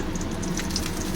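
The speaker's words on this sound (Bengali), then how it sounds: "এভাবে আলুটা একটু তেলে ভেজে নেব" Potatoes fry in oil while mutton keema biryani is prepared, a close, steady hiss and crackle that holds at a constant level throughout.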